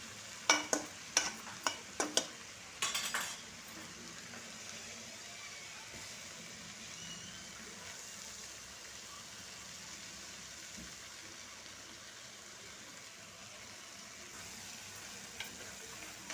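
Vegetables and noodles tossed and stir-fried in a pan for street-style veg noodles, a few sharp clanks of utensil on pan early on, then a steady soft sizzle throughout.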